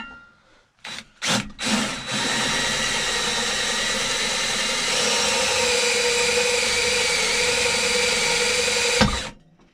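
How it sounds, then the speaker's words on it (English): Step drill bit on a power drill enlarging pilot holes to 3/8 inch, likely in metal on a Chinese four-wheeler being fitted with a 212 Predator engine; a few short bursts, then a loud steady whine for about seven seconds, stopping abruptly. "Now I'm going to take my step bit and bring them to their final size, which is 3/8 of an inch."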